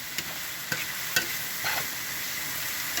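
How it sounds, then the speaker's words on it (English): Eggs being scrambled into vegetables in a pan for pad Thai, sizzling steadily with a few sharp scrapes and clicks of stirring, close and moderately loud, no talk. "you want to scramble them eggs right into them veggies"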